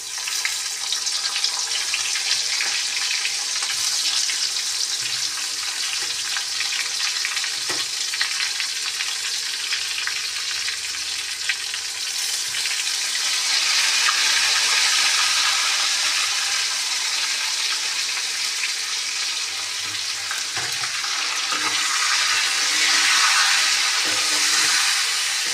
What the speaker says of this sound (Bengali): চলো আলুটা একটু লাল লাল করে ভেজে নিই